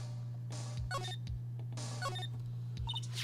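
Electronic buzzer and beep tones sound in Phoenix Wright: Trials and Tribulations, repeating in two similar bursts of rising tonal blips over a constant low hum.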